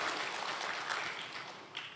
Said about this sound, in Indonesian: Kurang ramai tepuk tangannya